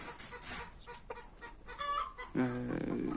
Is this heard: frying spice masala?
no